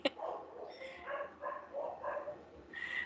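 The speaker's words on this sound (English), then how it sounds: "The dogs next door quarreling." Neighbouring dogs bark and yip in a quarrel, faint and somewhat distant, several short bursts in uneven rhythm with a whimper mixed in, heard alone without talk.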